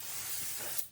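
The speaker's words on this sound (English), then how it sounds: "So you should spray the whole thing down" Cleaner sprayed over engine parts from a 1991 Honda Civic during an engine installation, heard as one steady close hiss of spray lasting under a second before it cuts off.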